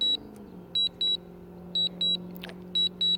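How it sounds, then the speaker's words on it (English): A DJI Mavic drone emits repeated short high-pitched beeps in pairs, clear and close over a low steady hum. "I can't control that beeping. It's annoying, I know."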